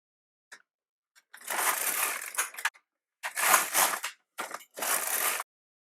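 A knitting machine carriage is pushed across a row in several separate swipes, each a close, dry rasping clatter lasting about a second, with short silent pauses between passes.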